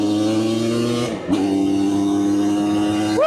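An old race quad that sat unused for ten years accelerates hard and close, its engine note climbing, dipping sharply at a gear change, then climbing again with another quick shift at the end.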